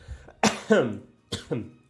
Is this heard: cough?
yes